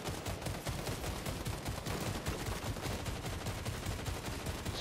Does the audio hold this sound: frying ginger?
no